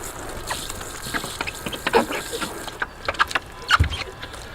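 A Colapz rechargeable twin-head travel shower sprays water outdoors in short, uneven bursts with brief pauses, a close hissing spatter on and off, with faint splashing between spurts.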